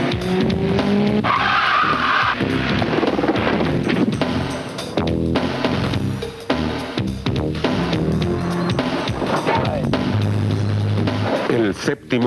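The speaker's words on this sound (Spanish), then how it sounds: "frenando a fondo sobre pavimento mojado" Car braking hard with ABS on wet pavement, with loud tire skidding and squealing under a spoken voice, plus engine noise.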